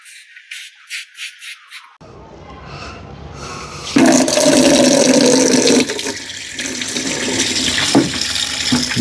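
Water splashes and runs while a dirty motorcycle air filter from an RS 457 is rinsed clean over a bucket, starting with a few short spurts, then a steady loud gushing stream close by.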